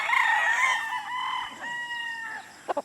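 A Boston White gamefowl stag crows nearby, one long loud cock-a-doodle-doo with a rising then sustained tone, followed by two short clucks.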